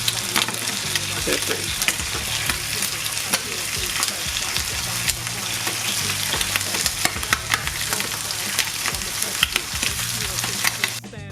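Pork skin sears in a hot pan, giving a loud, continuous crackling sizzle close up with scattered pops and spits throughout and no talk.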